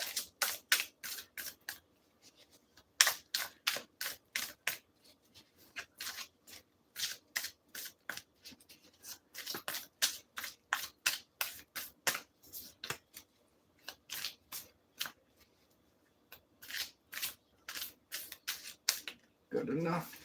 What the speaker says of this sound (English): I'm not going to go as crazy with the shuffling this time around.